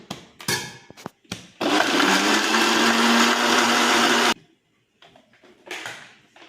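A mixer grinder blends juice with ice and water, giving a loud, steady whirring roar of about three seconds, with short clunks and rattles of handling before and after.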